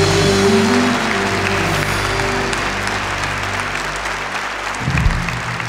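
A church congregation applauds steadily during a Catholic service, a dense, loud wash of clapping that carries on without pause, with a sustained low tone underneath and a brief swell near the end.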